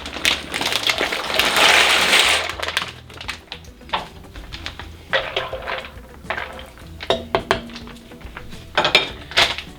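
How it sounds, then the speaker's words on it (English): Dry pasta rattles and clinks into a covered pot of hot salted water, a burst of pouring rustle followed by scattered metallic clinks and taps of pot and lid. "I'm going to go ahead and add in the pasta"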